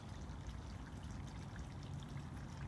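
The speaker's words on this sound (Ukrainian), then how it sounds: "зливаємо водичку теж обратно в водою" Water is poured back out into a river biotope, a steady, faint trickling stream that runs evenly for a few seconds without talk.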